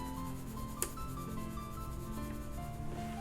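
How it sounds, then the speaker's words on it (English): A B pencil rubs steadily across paper while shading a sketch, a continuous close scratchy friction sound with no talking. "the pencil that I'm using is a B pencil."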